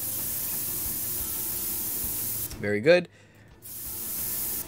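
A hiss of spray sounds while hosing off a prisoner in Prison Simulator, a brief burst following a short spoken remark, with steady background noise cutting out and returning.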